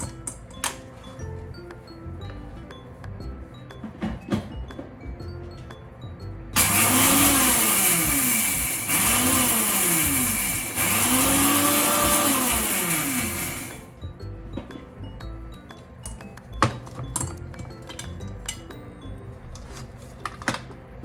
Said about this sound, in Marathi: आता मिक्सर मिक्सरमध्ये वाटून घेते हे